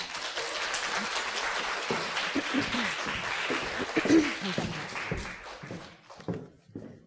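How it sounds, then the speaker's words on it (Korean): Lecture audience at Ewha Womans University applauding to welcome a Hollywood art director, steady clapping that thins out and breaks into a few scattered final claps before fading. "한유정 감독님을 박수로 환영해 주시기 바랍니다"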